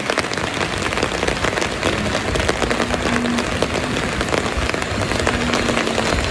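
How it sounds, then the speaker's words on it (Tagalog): Heavy rain pours steadily onto a road surface, a dense, loud and unbroken wash of drops close by with no voices over it. "At medyo malakas na ang ulan."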